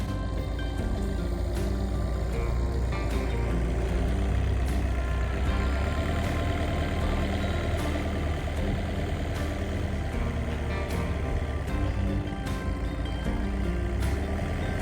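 A forklift works close by lifting heavy wooden beams on a farm, its diesel engine droning loudly and steadily at a low pitch, with faint ticking and mechanical rattles throughout.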